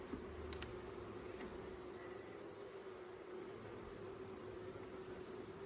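Honey bees in an eight-frame double-deep Langstroth hive, a dense continuous buzzing hum close by, steady throughout with a few brief louder passes of individual bees and no talking.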